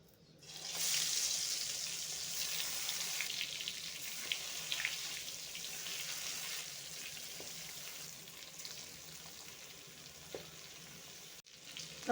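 Slices of eggplant (baingan) frying in hot oil in a kadai, a steady loud sizzle that begins suddenly and continues throughout, with a few light clinks near the end.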